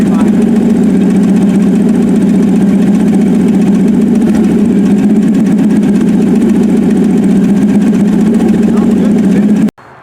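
A 1967 Checker Marathon with a swapped-in Vortec 4200 engine idling, a loud, steady, close engine drone held evenly throughout before it cuts off abruptly near the end.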